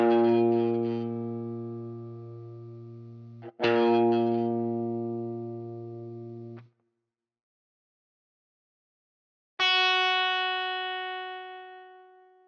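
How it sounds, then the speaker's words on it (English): Three separate guitar notes, each plucked singly and left to ring out before fading, with a silent gap before the third. The notes are clean, close and loud, with no talking. "I'm going to play 3 different notes on the guitar"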